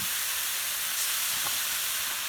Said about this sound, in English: we're just going to cook up a few slices of bacon here